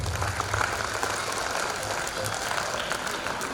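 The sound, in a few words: audience applause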